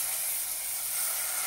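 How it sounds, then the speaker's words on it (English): Onions fry dark in a hot pan while cooking a spicy pasta bake, giving a steady, close hiss of sizzling with no voices over it. "Sizzle."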